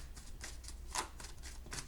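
Tarot cards are drawn from a deck in a quick series of soft, papery slides and flicks, quiet and close, with one sharper snap near the middle.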